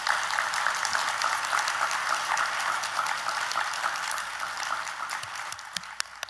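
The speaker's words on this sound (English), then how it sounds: "I would like us to give a round of applause to Abigail Echohawk" Audience applauding at the closing of a Native American nutrition conference, steady sustained clapping from a large crowd throughout, fairly loud and even.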